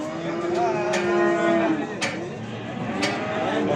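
Cattle at a livestock market in Beylagan bellow in a long, loud, close moo, with shorter calls and a voice in the background.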